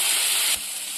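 Carrots being stir-fried in a hot pan for Dharwad-style bun lapda give a loud, steady sizzle and frying hiss that drops slightly partway through, with no voices.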